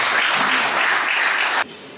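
Dense crowd applause fills the hall at an event in Morocco, then abruptly cuts off and drops to quieter background near the end.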